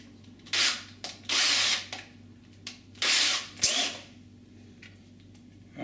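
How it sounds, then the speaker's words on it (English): Power drill driving a screw while fitting a door chain to a door: several brief, loud whirring bursts separated by pauses, close by and without speech. "I haven't swapped the bit on the drill to put the screw in."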